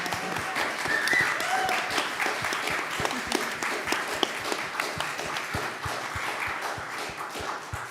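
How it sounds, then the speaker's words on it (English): Audience applause at a book talk and Q&A on antifascist history, a steady wash of many hands clapping that holds at even strength for the whole stretch, with a few faint voices mixed into it. "could we just give a round of applause for Selena"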